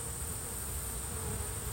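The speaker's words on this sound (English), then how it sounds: "That's a big, mean-looking bee, and these honeybees, they keep them away." Honeybees hum steadily around a five-frame nuc hive while guard bees defend the entrance against hornets, a dense, even buzzing close to the microphone with no voices.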